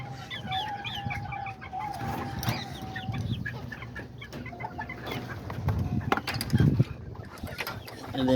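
Several backyard roosters and hens cluck steadily at close range, with a short crow and scattered mechanical clatter mixed in, and no one speaking.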